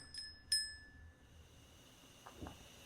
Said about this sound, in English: it sounds like a metal bell